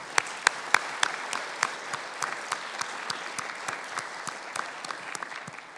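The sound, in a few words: audience applause to thank the sponsors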